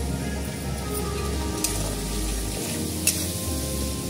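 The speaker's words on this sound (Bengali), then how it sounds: "সর্ষের জলটা আমি দিয়ে দিচ্ছি" Mustard powder stirred into water is poured into a hot pan for an eggplant and hilsa curry, giving a steady, dense hiss and sizzle like rain that runs unbroken for about four seconds.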